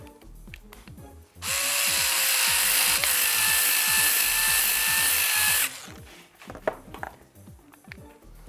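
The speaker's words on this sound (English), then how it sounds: "And then finish it off manually with the screwdriver" A powered screwdriver drives a screw into frame parts, a loud steady whine lasting about four seconds, with small clicks and handling noises before and after.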